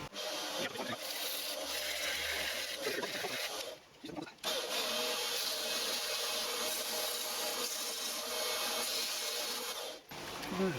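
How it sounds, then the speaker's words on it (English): Hand sandpapering of a homemade lathe milling attachment in a workshop, a continuous close rasping scrub broken by a couple of short pauses. "I'll bring you back when we're ready to do the sandpapering."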